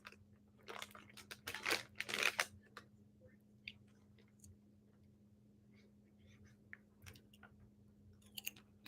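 Crunchy Sabritas Flaming Hot corn sticks are chewed close to the mic in repeated crisp crunches, dense at first and then more scattered, with no talking.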